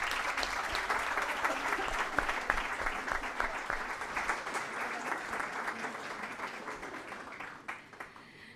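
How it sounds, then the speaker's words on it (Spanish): An audience at a Catholic public-life congress panel applauds the guests, a dense burst of clapping that gradually thins and fades out near the end. "Un abrazo y un aplauso acá para los invitados."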